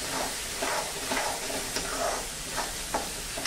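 Aloo baingan sabzi sizzles in a pan under a dense, steady hiss, while a spoon stirring the potatoes and eggplant adds soft intermittent scrapes, close up.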